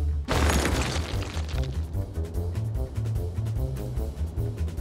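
Pipelines bulldozed in the city-building game Cities Skylines: a sudden loud boom opens, followed by a sustained, churning rumble of demolition layered with a steady game soundtrack.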